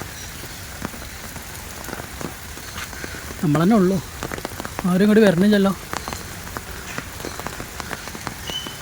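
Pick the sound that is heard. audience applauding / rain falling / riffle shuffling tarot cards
rain falling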